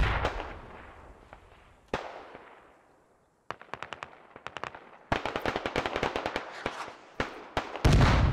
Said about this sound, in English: The rocket techie is now sporadically firing.